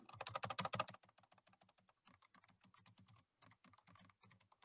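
Rapid clattering keystrokes on a computer keyboard, a loud dense burst at first, then lighter, steady typing in short runs with brief pauses while slides are being filled in.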